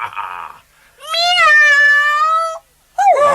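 A black puppy meows like a cat in one long, drawn-out, wavering cry, likely voiced by a person imitating it, with brief speech just before and after.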